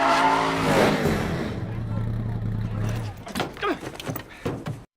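A race car crashes during a NASCAR practice run, with engine roar and tire noise fading into a series of sharp clattering impacts and scraping. A narrator talks over the sound.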